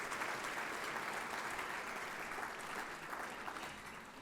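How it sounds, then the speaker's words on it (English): Sustained applause from a large audience at a groundbreaking ceremony dinner, a dense and even roar of clapping that holds steady throughout, fairly soft as if heard from the back. "Ladies and gentlemen, a big round of applause"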